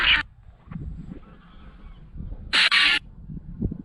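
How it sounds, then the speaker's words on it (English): Geese by a river give two loud, harsh honks about two seconds apart, close by, over a low, rumbling outdoor background. "Apart from the geese that we're hearing."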